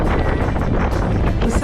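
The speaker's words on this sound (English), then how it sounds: "It was windy that day" Strong wind buffets the microphone at the ocean front in American Samoa, a loud, continuous low rumble with gusty flutter and no clear pauses.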